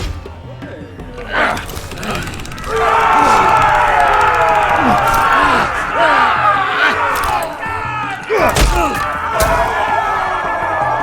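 Arena crowd in the Telltale Game of Thrones video game roaring and cheering, building to a loud sustained swell of many shouting voices, with sharp impacts and a crash near the end.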